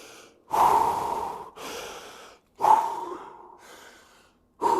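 Heavy, gasping breaths and snorts come in loud bursts between sets of a leg workout, several deep exhalations about a second apart with short pauses between, close and unaccompanied by talk.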